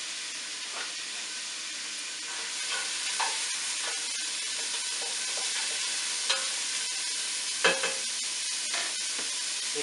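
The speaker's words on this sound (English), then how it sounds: "I hope you can hear over the onion sizzling." Onion frying in a pan with a loud, steady hiss and sizzle, broken by occasional pops and stirring scrapes, heard close and without speech.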